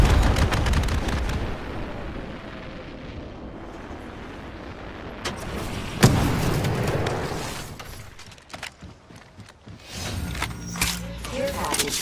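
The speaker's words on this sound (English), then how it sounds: "Fox 3, launching missiles." A missile launch in a shooter video game with booming explosions and gunfire, heavy blasts building to a sharp hit midway, followed by scattered pops and crackles, loud and dense.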